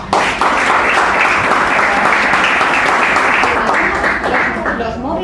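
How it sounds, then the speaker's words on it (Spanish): An audience at a conference on sport and Olympic philosophy claps steadily for a speaker, dense even applause that holds throughout at a close, full level. "Así que un fuerte aplauso, por favor,"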